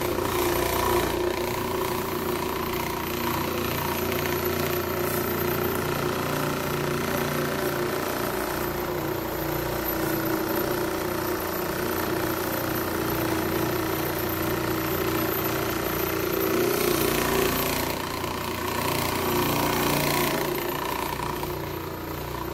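An Orbot Vibe floor machine polishes hardwood floors with a continuous, loud, vibrating motor drone that stays steady throughout, close by and with no talk over it.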